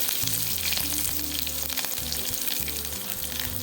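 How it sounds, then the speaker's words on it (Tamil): Chana dal and lentils fry in hot oil with a steady close sizzle, broken by repeated rhythmic scraping strokes as they are stirred in the pan. "கடலை கடலைப்பருப்பு இதெல்லாம் நல்லா செவந்து வர்ற அளவுக்கு நம்ம நல்லா ஃப்ரை பண்ணிக்குவோம்"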